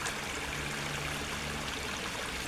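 A river in Bulacan flows in a soft, steady rush of water that continues without pause and sounds fairly faint.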